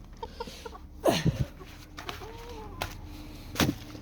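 Chickens cluck and squawk in short scattered bursts, fairly close, with a couple of louder calls standing out against a quiet background.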